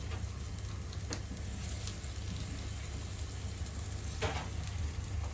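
Spiced food sautéing in a pan on a home stove makes a soft, continuous sizzle with a few brief scraping clicks, fairly faint and with no talk.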